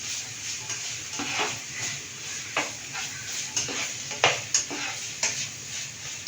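Chopped ingredients for chicken curry mixed in a frying pan, a soft background sizzle with repeated spatula scrapes and light taps coming in a loose rhythm, close by.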